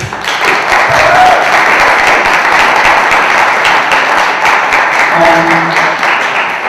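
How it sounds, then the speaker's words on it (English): An audience at a debate panel applauds a speaker being introduced, dense steady clapping from a sizable crowd filling the room for several seconds, with a few faint voices mixed in. "Give her an applause."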